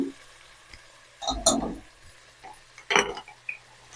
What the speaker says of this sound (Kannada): ಮತ್ತೆ ತಿರ್ಗಿಸ್ಕೋಬೇಕು ಸ್ಪೂನ್ ಹಾಕ್ತಾ ಇದ್ದೀನಿ